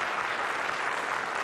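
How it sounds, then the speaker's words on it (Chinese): An audience applauds, a dense, steady wash of clapping from many hands with no voices on top. "也接受现场来宾的掌声"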